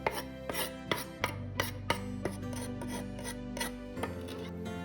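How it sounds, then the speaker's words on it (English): A kitchen knife chops four garlic cloves on a cutting board in sharp, irregular strikes, roughly a dozen close knocks against a steady background hum, with no talking. "start by mincing your 4 cloves of garlic"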